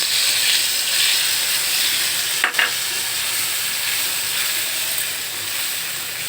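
Spice mixture sizzling in a hot pan with already fried tomatoes, a steady loud frying hiss throughout with a brief stirring scrape partway through, for a Bangladeshi pangas fish bhuna.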